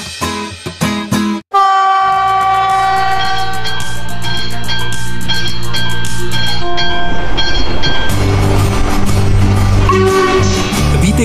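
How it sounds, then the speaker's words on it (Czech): A loud special steam train hauled by Slovak locomotive 498 104 "Albatros" rolls close by at Lužná u Rakovníka, its whistle tones sounding over rhythmic chuffing and clanking wheels that build steadily. "kde právě dorazil mimořádný parní vlak tažený slovenským Albatrosem 498 104"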